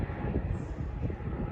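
Airplane taking off at Philadelphia International Airport, a loud, steady jet engine roar that fills the moment with broad rumbling noise.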